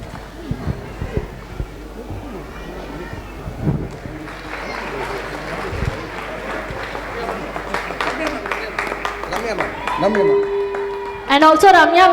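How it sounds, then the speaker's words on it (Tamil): An audience applauds at a dance academy's 16th anniversary celebration, with scattered claps swelling into fuller clapping partway through and voices talking over it. "நல்ல கைத்தட்டல் கொடுத்துடலாம்"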